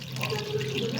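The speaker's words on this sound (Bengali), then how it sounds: "নাড়িয়ে এবার এর মধ্যে একটু জল দিয়ে দেবো" Water poured into a pan of mango chilli paneer, a brief soft steady splashing trickle, close and quiet.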